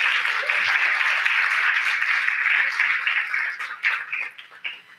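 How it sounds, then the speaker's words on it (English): A live audience at a youth summit talk gives a dense, sustained round of applause, loud and steady at first and then thinning into scattered, uneven claps toward the end. "So can we just give a round of applause for vulnerability?"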